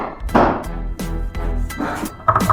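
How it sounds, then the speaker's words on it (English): A hammer whose striking face is cushioned with hot glue hits wood several times at close range, each blow a muffled, dull thunk, loud and spaced irregularly. "Using a hammer on wood is going to leave indentations."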